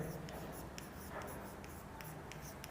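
Chalk or marker scratches out a name on a classroom board during a Hindi history lesson, with short, rhythmic strokes. The sound stays faint beneath the teacher's voice.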